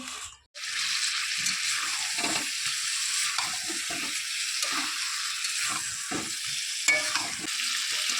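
Boiled potato and pointed gourd are sautéed for an egg curry. A loud, close sizzle starts abruptly after a short silence and then holds steady, broken by soft, irregular stirring scrapes.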